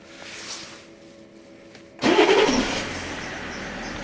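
A BMW 5 Series engine cranks and catches after about two seconds of near silence, then settles into a steady idle, fairly close and loud.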